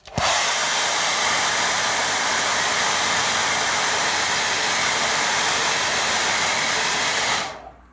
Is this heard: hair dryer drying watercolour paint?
yes